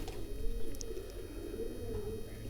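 Pigeons coo near a pigeon keeper's loft in rural Punjab, a low repeated throaty cooing over a steady background hum, with no talk.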